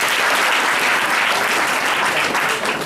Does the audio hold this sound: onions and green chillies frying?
no